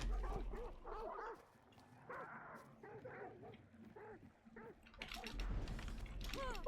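Dogs in a video game whimper and yip in a quick series of short cries, fairly quiet, followed by a louder burst of noise near the end.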